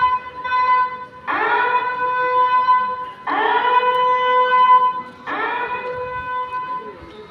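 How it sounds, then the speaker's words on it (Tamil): At Kadambathur railway station a siren sounds in three long, loud, steady wails separated by short gaps, close and clear against faint background noise. "சைரன் அடிக்குது."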